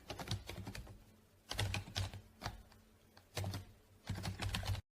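Bursts of quick typing on a computer keyboard while writing code, clustered keystrokes separated by short pauses, close and fairly quiet.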